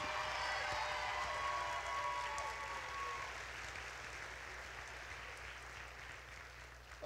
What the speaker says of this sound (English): how about a nice round of applause for Roman Shaheen and Mrs.